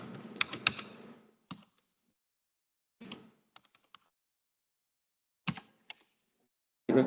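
Short bursts of typing on a computer keyboard during a lab session: a flurry of quick keystrokes, then scattered single taps and clicks separated by long silent pauses, close and fairly quiet.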